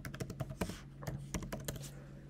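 Typing on a Mac computer keyboard: a quick, quiet run of about a dozen close key taps in an uneven rhythm, with no voice.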